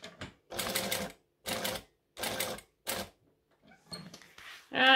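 A sewing machine stitches a crisscross pattern in a series of short whirring bursts separated by brief pauses, close and clear with no talking.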